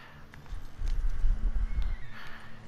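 Hooves of horses pulling a wagon in Red Dead Redemption 2 clop in a steady walking rhythm, close and moderately loud, with a brief whinny.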